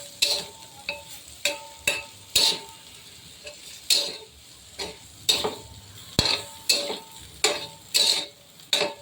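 Dried bombil fish frying with tomato in an iron pan, stirred steadily: repeated scraping clacks of the spatula over a constant close sizzle, with no talking.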